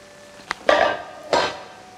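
A cooking pot being handled in a kitchen, a small clink followed by two louder metallic scrapes and clanks of the pot, close and clear, with no talking.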